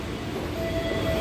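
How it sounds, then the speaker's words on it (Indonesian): The Kamandaka passenger train departing a station, a steady rolling rumble of railcars close by with a faint tonal squeal running through it. "Oh, itu ada kereta berangkat tuh."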